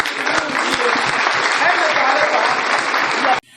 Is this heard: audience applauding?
yes